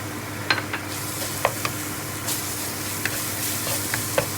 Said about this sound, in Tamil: அந்த பேஸ்ட்டை இதுக்குள்ளே கொட்டி வளர்க்குவேன்.